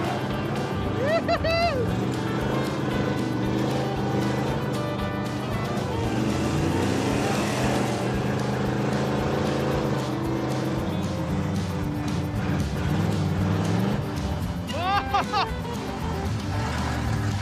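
Retired race cars run hard on a dirt track, a loud, continuous engine roar with rising and falling pitch sweeps as they pass, and someone talks over the noise throughout.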